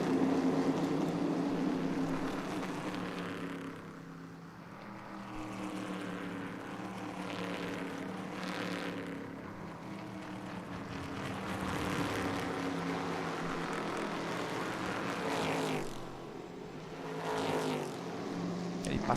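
A Stock Car race car's engine snarls and builds as it accelerates around a racing circuit in Brasília, a loud sustained drone that rises and falls in pitch across the stretch.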